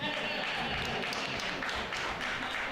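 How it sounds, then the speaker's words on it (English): Recorded clapping and cheering played from an Alexa speaker at an open-mic stand-up comedy show, a dense, continuous burst of applause lasting a few seconds with no talk over it. "Alexa, please put the clapping on, please."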